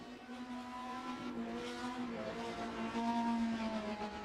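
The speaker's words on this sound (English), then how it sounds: "It's incredibly high revving engine." Race car engine of a German Touring car at Suzuka in a racing game, a steady high-pitched whine that climbs smoothly through the revs, faint, heard alone.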